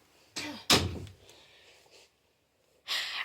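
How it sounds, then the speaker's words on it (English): A room door is pushed shut indoors, a couple of close thuds and a slam followed by quiet shuffling, heard alone before a pause. "I'm going to close the door first."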